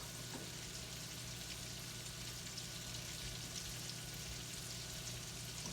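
Breaded crab cakes frying in a hot pan with oil: a dense, continuous crackling sizzle that stays loud and even from start to finish, close up, with no talk.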